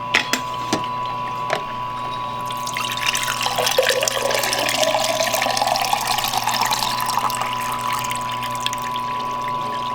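Dirty water pours steadily from a slushie machine spout into a container, a continuous splashing stream that rises slightly in pitch as it fills, with a steady hum beneath.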